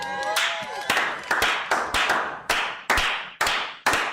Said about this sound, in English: Clap it up for my favorite student athlete